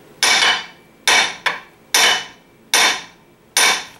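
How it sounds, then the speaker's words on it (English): Standard ball peen hammer strikes a hard surface five times at roughly even intervals, each sharp metallic crack followed by a quick bounce and ringing decay, loud and close with nothing else audible. "This is the standard ball peen hammer."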